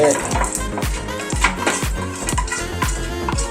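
A spoon stirs fried tempering into a ground prandai chutney, giving repeated soft scraping and wet mixing strokes in a steady rhythm, close and moderately loud.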